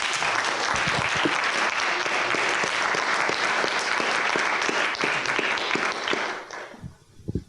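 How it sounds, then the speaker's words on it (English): An audience at a mathematics conference gives a sustained, even round of applause for the organizers, steady and full for about six seconds before thinning to a few last claps. "they really deserve a nice round of applause"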